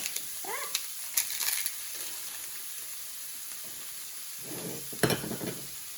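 Crushed tortilla chips frying in bacon fat and being stirred in a pan: a quiet sizzle with scattered crisp scraping and rustling bursts of the spatula, the loudest near the end.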